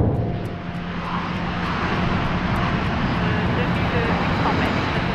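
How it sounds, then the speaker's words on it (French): A Dassault Rafale fighter jet, latest version, starts its takeoff roll on a runway with a broad roaring engine rush that holds steady and loud, under a voice speaking. "Il va tester les hautes vitesses sur la dernière version du Rafale."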